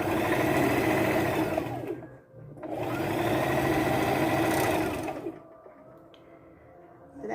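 Sewing machine stitching quilt pieces, two close, even runs of rapid whirring separated by a short pause, then stopping into near quiet.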